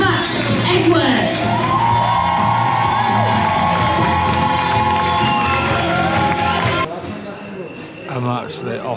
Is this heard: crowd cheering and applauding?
yes